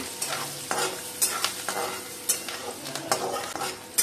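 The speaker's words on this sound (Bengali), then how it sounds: "পেঁয়াজটা দিয়ে দিচ্ছি। পেঁয়াজটা একটু লাল করে ভাজবো।" Onions fry in hot oil in a pan for a pumpkin-leaf dish, a steady close sizzle broken by repeated scraping strokes of a spatula stirring them.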